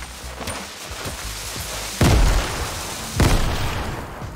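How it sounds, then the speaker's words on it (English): Grenade explosions in a video game: two loud booming blasts about a second apart over a busy background of game sounds and smaller pops. "I'll just throw some nades."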